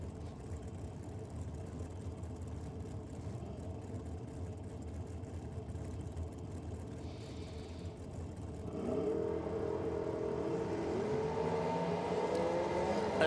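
Drag racing cars with a 615-cubic-inch big block Chevrolet and a small block Chevrolet engine idle and rumble at a distance. The sound is a steady muffled drone that rises into a louder, harsher roar partway through.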